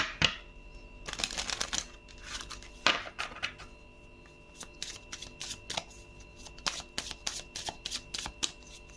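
Rumi oracle cards being shuffled by hand in repeated crisp riffling bursts with short pauses between, close and fairly loud, no talking.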